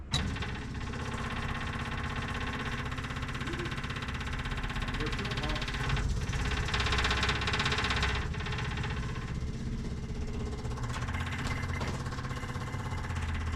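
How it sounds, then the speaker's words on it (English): A fuel pump runs on a 1956 GMC 630 truck with a 503 straight-six, a steady, faint mechanical hum and rattle that continues throughout with a few quiet voices nearby. "turn that pump on"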